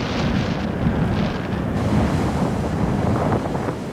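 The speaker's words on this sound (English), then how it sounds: "As the gusts built, I wondered if they were katabatic winds coming off the glacier" Strong wind gusts roar through an Icelandic storm near a glacier, a loud continuous buffeting rush close to the microphone that swells and eases in waves.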